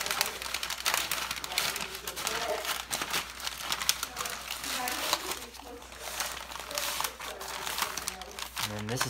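Baby back ribs being wrapped and folded in butcher paper: continuous close crinkling and rustling of stiff paper, with a person talking over it throughout.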